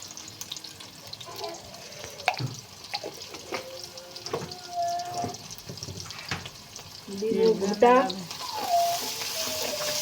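Onions or other ingredients sizzle in a pan with turmeric powder and salt as they are stirred and sautéed, soft frying hiss under occasional scraping and clinks, with a brief louder stir near the end.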